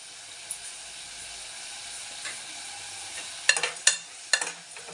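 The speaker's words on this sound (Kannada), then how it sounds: "ಇದೊಂದು ಸ್ವಲ್ಪ ಫ್ರೈ ಆಗಬೇಕು" Tomatoes fry in a pan as the base for a pumpkin gojju curry: a low, even hiss, then a few sharp spatula scrapes and clinks near the end.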